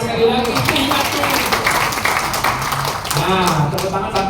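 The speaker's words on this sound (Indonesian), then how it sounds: "Tepuk tangan sekali lagi." Congregation at a GTI Medan church service in Podomoro City Deliark claps in a dense, continuous patter, mixed with a speaking voice throughout.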